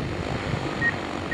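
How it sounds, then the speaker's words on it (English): Talos T60X agricultural spray drone in flight, a steady broadband rotor drone with a faint high whine, close and continuous without pauses. "when I move the stick forward, the drone will begin spraying."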